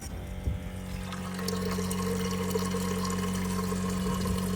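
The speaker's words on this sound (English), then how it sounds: "now we're gonna run some water through there to test it" Water runs steadily through a newly installed drain on raw off-grid land, a continuous gushing and trickling flow that swells after the first second and holds at an even, close level, with a faint hum underneath.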